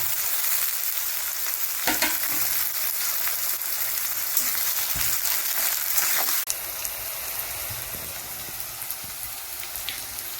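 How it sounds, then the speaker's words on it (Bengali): Chopped onions frying in hot oil for vegetable chow mein, a dense, steady close-up sizzle like rain on a surface, with a few stirring clicks and scrapes; no voices. "এবার এই তেলের মধ্যে আমরা এই কুচো করা পেঁয়াজগুলোকে ভেজে নেব"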